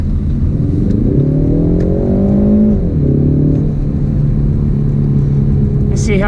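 A Ford Mustang EcoBoost in sport mode holds its engine revs high, a loud steady rumble with a rising then falling pitch sweep heard from inside the car.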